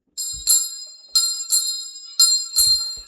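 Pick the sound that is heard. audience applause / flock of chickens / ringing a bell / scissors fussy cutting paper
ringing a bell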